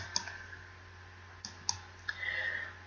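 A computer mouse clicks on a green rectangle in LiveCode: four sharp, sparse clicks spaced irregularly over a soft background hiss, with a brief faint whir near the end.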